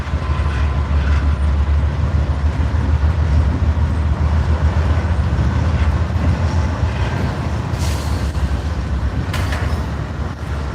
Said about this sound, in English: that is the train that has both the Pennsylvania 8102 and the Lackawanna on it, 1074.